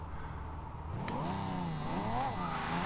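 A 2012 Pagani Huayra engine revs up in the video game Forza Horizon 2, its pitch rising and wavering as it climbs, loud and steady for a few seconds.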